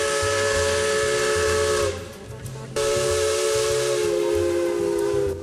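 A loud steam locomotive whistle blows a sustained multi-tone chord over heavy hissing steam, cuts off briefly, then sounds again just as strongly.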